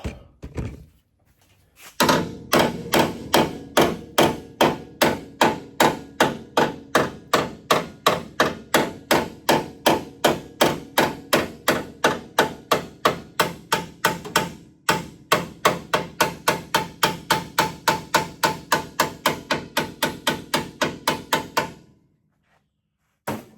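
Light hammer taps strike a metal back brace during air-suspension work on a 1949–51 Mercury, a steady, evenly spaced run of sharp close knocks lasting about twenty seconds with one brief pause midway.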